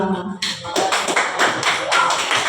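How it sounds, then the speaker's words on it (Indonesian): Students in a school classroom applaud a student group, a dense, steady burst of clapping from many hands that carries on for the whole stretch, close and fairly loud, with a brief murmur at the start. "Tepuk tangan dulu untuk kelompok 2"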